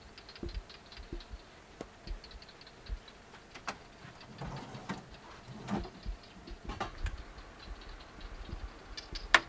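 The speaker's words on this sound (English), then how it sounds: "You can hear the barking geckos in the background of the" Barking geckos call at night in the Kgalagadi, a scatter of short, dry clicking chirps at irregular intervals, moderately distant and faint over a quiet background.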